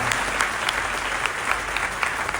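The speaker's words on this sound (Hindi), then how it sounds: "जोरदार तालियों से इनका स्वागत है। जोरदार तालियां।" An audience at a Maharashtra Mandal gathering gives loud, sustained applause to welcome someone, a dense, continuous wash of clapping throughout.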